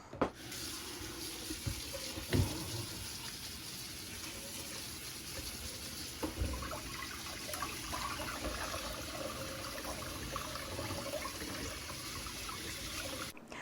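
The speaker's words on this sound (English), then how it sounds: "Now I'm going to rinse this, and then I'll put the rinsed peppers into this bowl." Running tap water splashing steadily into a sink, with occasional clunks and rustling as peppers are rinsed under it.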